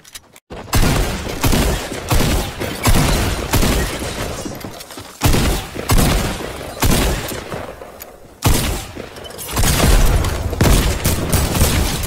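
A SCAR rifle fires in sustained loud bursts during a video game battle, with dense rapid shots, brief pauses between volleys and booming impacts throughout.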